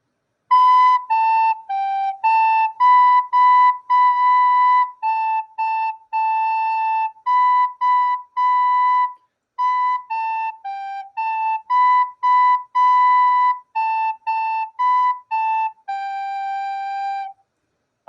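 A recorder plays Merrily We Roll Along as a steady sequence of clear, pure sustained notes with short gaps between them, close and alone.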